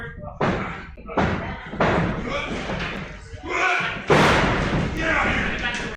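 Heavy wrestling body slams and thuds at a 12/12/20 match between two wrestlers, several loud impacts against the wall and mat at irregular intervals, with a commentator talking throughout.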